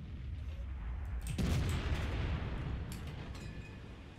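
An FV215b tank cannon fires in World of Tanks, a quiet distant blast followed by a long rumbling decay, with a few faint clicks and thumps after, no talking.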